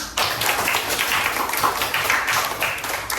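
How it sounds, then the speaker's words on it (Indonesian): A class of students bursts into sustained clapping, a dense, even patter of many hands that runs throughout. "Tepuk tangan untuk kita semua."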